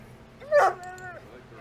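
A single short dog bark, followed by a drawn-out whining yelp, close by and fairly loud.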